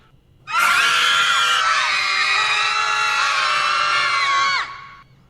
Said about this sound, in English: That's a nice collection of screaming.